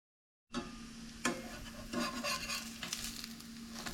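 Potato and beet pancake batter hits a very hot pan and sizzles steadily nearby, with a few scraping and mushing touches as the patties are pressed together; no one speaks.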